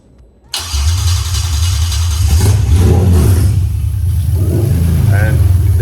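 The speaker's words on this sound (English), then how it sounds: "turn the key and the engine should start." A Lexus IS300 engine running an ECUMaster Black ECU cranks and fires up abruptly after a brief quiet moment, then settles into a loud, steady, deep rumble with slight revving swells.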